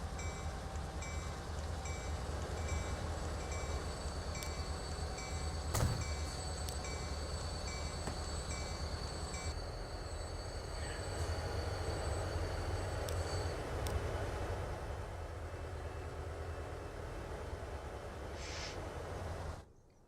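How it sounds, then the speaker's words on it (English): Trains running on tracks in the video game Transport Fever 2, a steady close rumble of rolling wagons with faint high signal tones, held without a break for about twenty seconds, no talk. "There's another train coming in"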